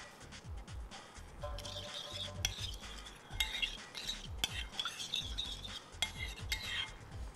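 Sauce mixed with salt and red chili powder in a bowl, heard as quiet repeated scraping and clinking of a spoon against the dish in an irregular stirring rhythm, close and faint, with no talk.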